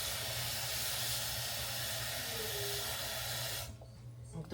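Loud, steady hiss and steam of water poured onto meat seasoned with pepper, garlic and vinegar in a hot wok for pinakbet, the sizzle holding strong before cutting off sharply near the end.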